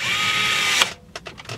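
A power drill drives screws while a Sony XAV-AX100 radio is fitted into a 1999–2006 BMW 3-Series, a close steady whir that cuts off, followed by a few short ratcheting bursts.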